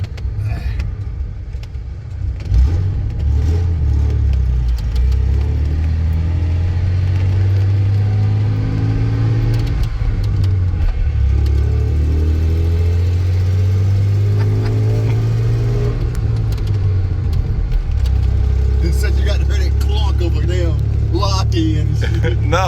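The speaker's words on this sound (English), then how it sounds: "You can hear the gears meshing with each other." Honda Civic EK with a D16Z6 VTEC engine running at steady idle with rising and falling revs, a loud low drone close by, while people talk over it.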